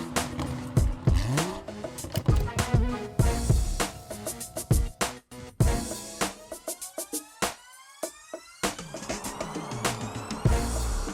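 A 2019 BMW 750i xDrive with a 4.4-liter twin-turbo V8 accelerating and revving hard, loud and close, with rising and falling engine surges, brief tire squeal and sharp gear-change bursts throughout.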